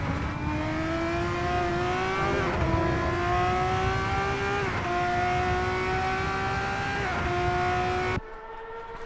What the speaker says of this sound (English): Just trying to push this F3 car even further than they already are.